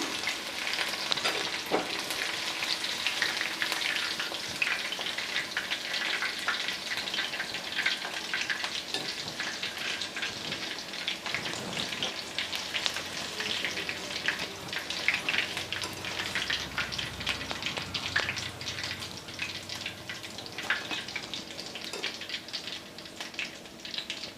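Chicken pakora deep-frying in hot oil, a steady close crackling sizzle with scattered pops and occasional stirring, continuous throughout with no talk.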